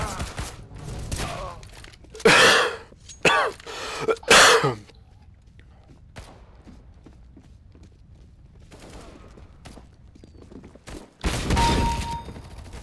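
Gunfire in the video game CS:GO, Arms Race mode: several loud, rapid bursts of shots clustered early, then scattered faint pops and one more loud burst near the end, with quiet stretches between.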